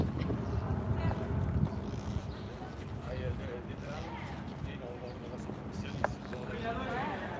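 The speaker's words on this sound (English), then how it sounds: "it's kind of windy" Wind buffets an outdoor microphone at a G7 protest in Quebec City, a continuous low rumbling roar with gusty swells, under distant crowd noise and voices.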